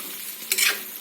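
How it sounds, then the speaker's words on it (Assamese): Eggplant for pickle sizzles softly in a pan, then a brief scrape and stir stirs up a quick burst of louder frying before it settles back to a gentle hiss. "অলপ টাইম ভাজি আছোঁ"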